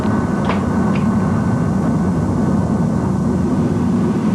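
Steady, loud roar of a B-1 bomber in flight while taking on fuel from a tanker aircraft shortly after launch, a continuous broadband engine and airflow rumble with no voices.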